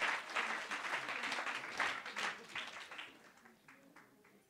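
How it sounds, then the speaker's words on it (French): Audience applause at a fundraising conference, a dense burst of clapping that fades out over the final seconds. "Sous vos applaudissements, s'il vous plaît."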